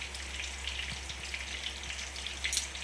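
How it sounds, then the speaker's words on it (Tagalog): Oil sizzles and crackles steadily in a pan as an anchovy omelette fries, a continuous close hiss with small pops and a low hum beneath, no talking. "Ang ganda ng pagka-prito"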